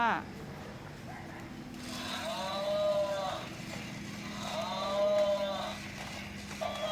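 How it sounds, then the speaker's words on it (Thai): In a cattle and buffalo pen at feeding time, two drawn-out moos sound a couple of seconds apart over a constant low hum and scattered background noise. "โอ้มีวัวสีน้ำตาลด้วย"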